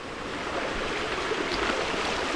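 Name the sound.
water flowing down in a quarry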